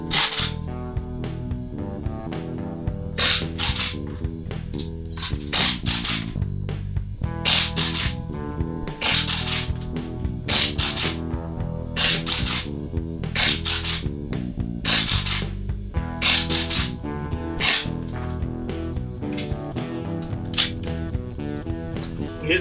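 A rapid series of sharp, snappy gunshot cracks from a FABARM STF12 airsoft gas shotgun, fired in quick slam-fire bursts with a mechanical clack after each shot.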